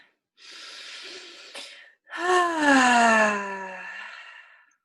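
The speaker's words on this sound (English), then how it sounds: "you'll notice that I make a lot of sound when I'm exhaling." A long, loud breathy exhale follows a softer sustained breath, ending with a voiced sigh that trails off into silence.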